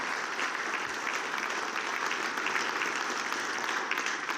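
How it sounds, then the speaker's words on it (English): A public safety event audience gives a round of applause for local public safety agencies, a steady, moderately distant patter of many hands clapping without pause. "Please give them a round of applause."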